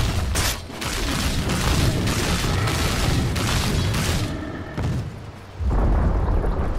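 A Dota 2 tower collapses in a ranked match, producing a loud, rumbling crash of broadband booms: a dense series of heavy impacts and debris noise with brief dips, then a final strong burst near the end.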